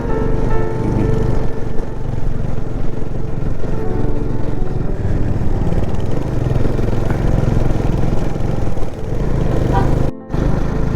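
A motorcycle engine runs steadily while riding up a mountain road from Gangtok toward Nathula, a loud continuous drone with wind rush that drops out abruptly near the end.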